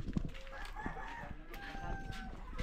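Chickens cluck and a rooster crows at a moderate distance, with scattered poultry calls layered over a faint outdoor background.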